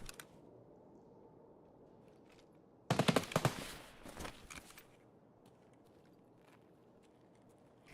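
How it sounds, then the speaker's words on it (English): Close burst of gunfire from a high-end weapon in Escape from Tarkov, a sharp cluster of rapid shots lasting about a second and a half, followed by a few scattered fainter cracks over a low, quiet ambient bed. "There's somebody with a very good gun near me."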